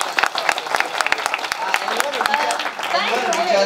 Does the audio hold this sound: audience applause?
yes